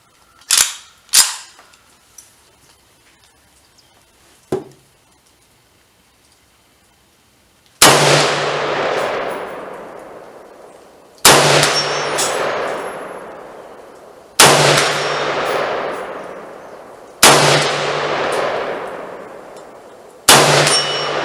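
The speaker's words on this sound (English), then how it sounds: "We're going to throw a couple of rounds down range and see if I can't hit that target." Ruger Mini 14 .223/5.56 rifle fires five loud shots downrange at a target, each a sharp crack with a long ringing decay, spaced about three seconds apart after a few lighter metallic clicks.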